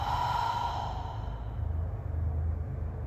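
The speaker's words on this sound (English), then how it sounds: "Over the mouth, exhale." A deep, slow exhale through an open mouth during yoga breathing, one long soft breath that carries steadily for about three seconds at close range.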